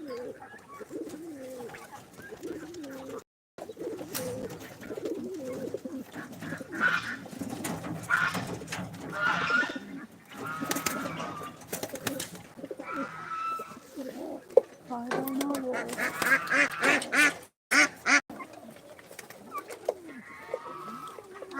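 Soft, repeated cooing of pigeons rises and falls over the clip, mixed with people talking nearby and brief gaps of silence.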